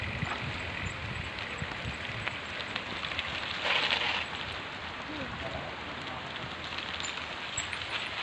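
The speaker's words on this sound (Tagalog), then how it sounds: "umuulan po" Steady rain hisses down outdoors with an even, continuous patter, moderately loud and unbroken for the whole stretch, with no talk over it.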